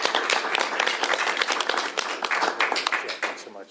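Applause from a crowd at a state bill signing, dense and steady for nearly four seconds, with overlapping claps filling the room and easing slightly toward the end.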